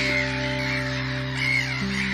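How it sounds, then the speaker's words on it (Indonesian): Crows caw from a flock of around 500 birds over a village, distinct harsh calls rising above a constant droning background, moderately faint and somewhat distant. "langit di desa mereka sering dihujani kotoran burung gagak"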